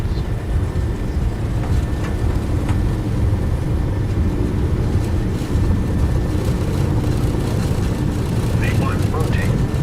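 Airliner engines spool up and roar steadily during a takeoff roll in Microsoft Flight Simulator 2020, a dense constant low rumble throughout, with a voice talking over it.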